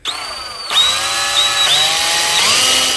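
A power drill whines steadily, with pitch dips and recoveries as the bit bites, while drilling out a snapped bolt in a John Deere riding mower spindle. It is loud and close.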